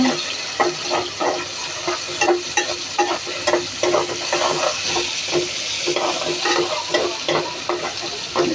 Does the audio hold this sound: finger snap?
no